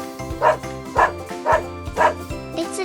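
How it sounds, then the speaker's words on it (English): A dog barks in a steady series of five evenly spaced woofs, close and clear over a faint musical backing. "It's a doggy."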